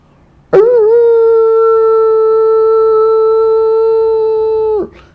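A voice imitating a wolf howl: one long, loud, steady tone held for about four seconds and then cut off sharply, with no other sound around it.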